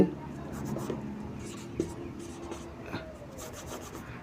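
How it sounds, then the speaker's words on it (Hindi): A teacher writes a number-system definition by hand on a board during a maths lesson. Scratchy rubbing strokes with small taps continue steadily at moderate level. "परिभाषा चलिए मैं लिख रहा हूँ"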